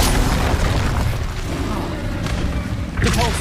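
Incendio fire spell blast from the Hogwarts Legacy video game, a dense roaring burst of flame and rumble filling the clip, loud and close, with a fresh surge near the end.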